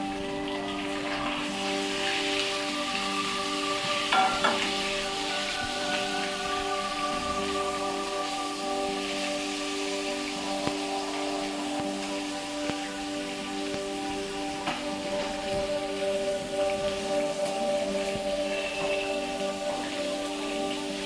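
Beans seasoned with salt and ground pepper fry in a pan for Filipino bihon guisado, making a continuous, even hiss of sizzling with occasional small pops over a faint steady hum, with no talking.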